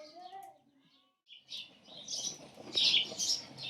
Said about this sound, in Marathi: चिमण्या लय चिवचिवाट चालला रे